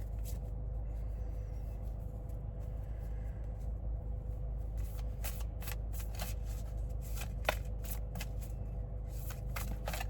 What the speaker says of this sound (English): we're gonna pull an oracle card to really pull this all together